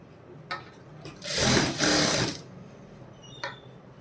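A sewing machine stitches a hemming strip onto a neck patti in one loud, close burst of about a second of rapid whirring. A few light clicks come before and after it.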